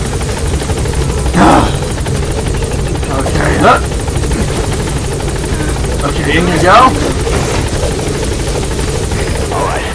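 An extraction helicopter in the video game Metal Gear Solid 5: The Phantom Pain, its steady loud rotor thrum and engine buzz running continuously close by, while a voice speaks briefly over it.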